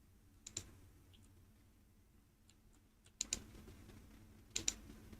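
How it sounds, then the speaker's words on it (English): Short bursts of quiet clicking keystrokes on a computer keyboard, separated by a long pause, close and faint with no talking. "inside the H3, I type in amphitheater"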